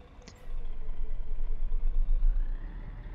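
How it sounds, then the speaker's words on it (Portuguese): Rear-mounted diesel engine of a Marcopolo Paradiso G6 1200 bus in Euro Truck Simulator 2: a brief click, then a deep steady idle rumble that swells and pulses slightly, fairly loud and alone. "Você pode aumentar o volume do som do ônibus"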